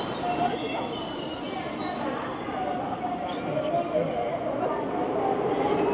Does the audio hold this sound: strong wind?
no